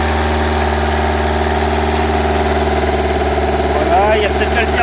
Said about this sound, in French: Le moteur tourne pas trop mal.